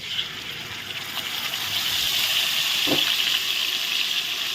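Tomato paste goes into hot oil with fried potatoes, left over from frying eggplant, and sets off a steady, close hiss of sizzling that grows slightly louder, with no talking.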